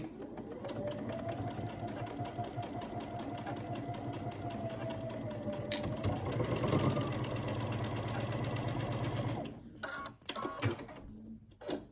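A sewing machine stitches quilt pieces together in a fast, steady mechanical patter with a rising motor whine, then stops, leaving a few handling clicks and thumps.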